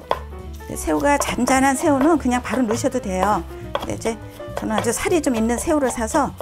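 A kitchen knife minces raw shrimp for kkakdugi, Korean radish kimchi, with quick repeated chopping taps on a board, heard under a person talking throughout.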